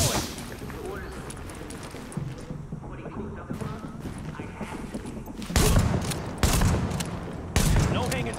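Gunfire and a grenade blast in Tom Clancy's The Division, version 1.8.2: continuous crackling shots beneath talk, then several loud, sharp bursts near the end.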